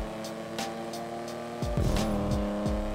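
Car in the video game GTA 5 idling with a steady engine hum, then revving sharply through several rising, falling bursts, loud and close.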